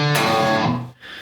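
Distorted electric guitar plays a bar from a song: a single palm-muted chug on the low string, then open-string notes and a pull-off, loud and alone, with a brief dip before a final ringing note.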